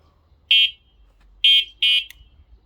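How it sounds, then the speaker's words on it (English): An Evomotion Evotech 500L electric scooter horn gives three short, shrill electronic beeps, the first alone and the last two in quick succession, loud and close against near silence. "What's the horn sound like?"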